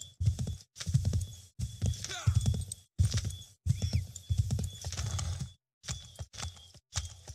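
Horse hooves clip-clop in bursts of galloping steps with an occasional neigh from a horse in the Assassin's Creed 3 video game, loud and close, with brief pauses between runs.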